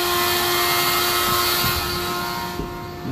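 A Shapeoko3 XXL CNC machine runs with its enclosure open, a loud, steady whine with a sustained tone over broadband motor and spindle noise, close and continuous with no speech.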